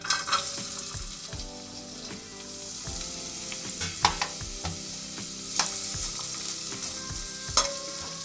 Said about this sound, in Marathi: फोडणीला तमालपत्र आणि कांदा टाकायचा।